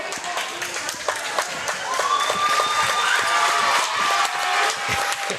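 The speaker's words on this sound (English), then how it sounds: "getting a round of applause" Fans applaud at a high school basketball game in a gym, steady clapping and crowd noise running throughout under a commentator's voice, with a squeaky whistle-like tone sliding through the middle.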